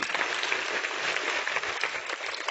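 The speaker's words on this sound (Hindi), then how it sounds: "बजाओ ताली बच्ची की" Steady applause from a crowd of schoolgirls at a government girls' higher secondary school, dense and sustained throughout with no talking over it.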